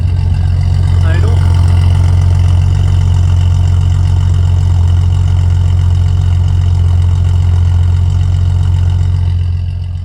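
A 1979 Datsun 280ZX slicktop idles steadily, its low, even engine drone close and loud for the whole stretch with no talk over it.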